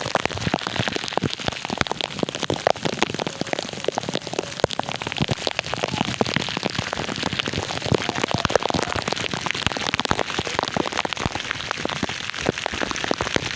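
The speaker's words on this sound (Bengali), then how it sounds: "ছুটছে বৃষ্টিতে ছুটছে এত জোর বৃষ্টি হচ্ছে" Heavy rain pours in a steady, dense roar during bad weather, close and loud throughout with continuous crackling drops on surfaces.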